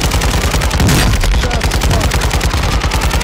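Rapid gunfire from a video game firefight crackles in loud, tightly spaced bursts, close and sustained over a few seconds with no talking.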